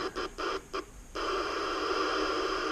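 A Uniden Bearcat 980SSB CB base radio scanning channels, with steady loud hiss and static that starts after a few short choppy bursts and gaps, then runs on continuously.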